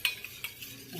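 A spoon stirring honey into a herbal drink in a cup: a few light clinks and scraping swirls, close and quiet, with no talking.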